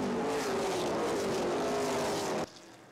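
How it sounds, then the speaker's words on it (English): Race cars roar past close together at Flat Rock Speedway during an ARCA/CRA Super Series 125-lap race, a loud sustained engine drone that cuts off abruptly near the end, with no voices. "Top 6 cars running nose to tail"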